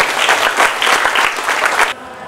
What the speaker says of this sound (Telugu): మనమందరం గట్టిగా చప్పట్లు కొడుతూ వారికి జన్మదిన శుభాకాంక్షలు తెలియజేయాలి